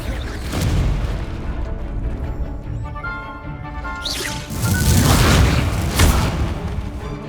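A Confringo spell explosion in the video game Hogwarts Legacy bursts with deep booms and crashing blasts, loud and continuous, with a heavier second impact midway through.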